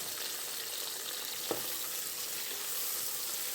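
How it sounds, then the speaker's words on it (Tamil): Onions sauté in a pan for mushroom biryani, a steady close frying sizzle with one brief knock of the spatula partway through and no talking. "வெங்காயம் நல்லா ப்ரௌன் ஆகிற வரையும் வதக்கிக்கோங்க"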